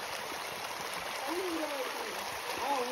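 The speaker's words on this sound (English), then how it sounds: "Let's cross this river." The Don Khola river in Nepal flows with a steady broadband rush and gurgle on a trek crossing, continuous and close, with faint voices and a bird-like whistle briefly rising above the water.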